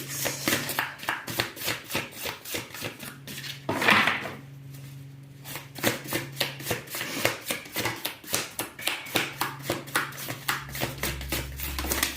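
Tarot cards being shuffled by hand on a table give a quick, steady run of soft riffling and slapping sounds that pause briefly partway through and then carry on at close range.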